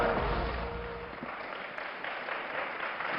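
An audience claps to welcome actor Sunil Lahiri at the Ayodhya Parv Ram Yug event, a loud, dense wash of applause that starts strong and gradually thins out over a few seconds.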